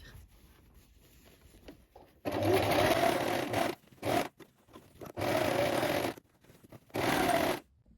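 A sewing machine stitches a shirt seam at a second gathering line 1 cm from the first, running in several loud bursts of steady whirring separated by short pauses.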